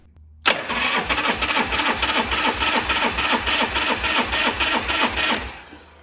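A Shovelhead motorcycle engine cranks over on the starter with the throttle held open and ignition grounded for a compression test on the front cylinder, a steady rhythmic chugging that starts abruptly and runs close and loud with no talk.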